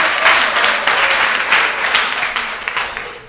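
An audience applauds elected officials at a St. Ann youth chat event, a loud, dense burst of clapping that carries on steadily for several seconds, with a faint voice underneath.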